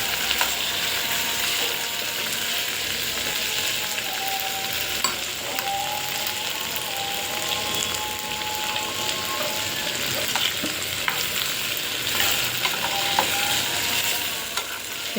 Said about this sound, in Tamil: இன்னும் நல்லா இது கொஞ்சம் எண்ணெய்லேயே வதக்கணும் நல்லா.